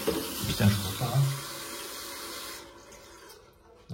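Tap water runs into a toilet cistern during replacement of a flush mechanism, a soft steady rush that fades as the tap is turned off near the end, with someone speaking briefly over it.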